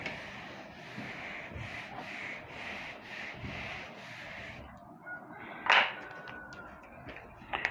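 A classroom board being erased by hand: about seven even, rhythmic rubbing strokes, close and steady, then a pause followed by a sharp squeak and a few light taps.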